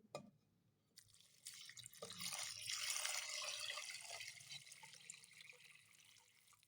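Water poured from a glass into a clay matti handi for chicken yakhni, with bay leaf and onion already inside; a steady, close splashing pour builds and fills the pot for several seconds with no talk.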